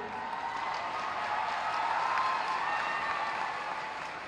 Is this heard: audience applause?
yes